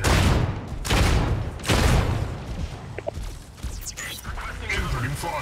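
Incoming gunfire in the mech combat game Mech Arena: loud bursts of shots and impacts in several heavy waves, with smaller crackling hits in between.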